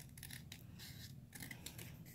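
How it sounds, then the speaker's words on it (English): Small scissors trim paper for a teapot-shaped gift card holder, giving quiet crisp snips in quick succession, close and faint with no talking. "I'm going to use the smaller scissors right here. Just cut it a little bit more."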